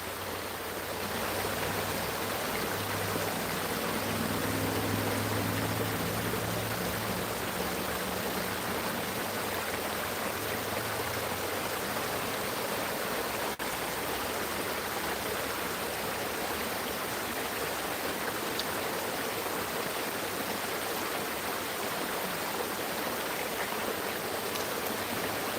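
McMillan Creek's flowing water rushes steadily and loudly nearby, a constant broadband wash that holds even for the whole stretch, with no talking over it.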